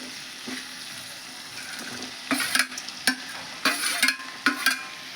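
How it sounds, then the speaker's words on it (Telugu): Bitter gourd pieces with turmeric fry in a pan for a curry, giving a steady low sizzle broken by several louder scraping stir strokes in the second half. "కొద్దిగా పసుపు అయితే వేస్తున్నాను తర్వాత కాకరకాయ ముక్కలు కూడా వేసేస్తున్నానండి"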